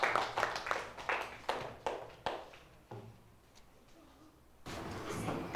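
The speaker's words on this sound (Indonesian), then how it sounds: "tepuk tangan kat mereka" Primary school pupils in a classroom clap for a student group, a run of loud separate claps fading to sparse taps and quiet room noise before louder noise returns at the end.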